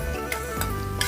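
Chopped garlic, about ten cloves, goes into hot oil in a kadai for dragon chicken, giving a steady close sizzle and frying crackle with light stirring noises throughout.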